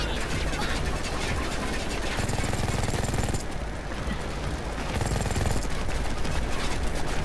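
Rapid video game gunfire blasting at a turret, a dense, continuous stream of loud automatic shots with brief breaks in the rhythm.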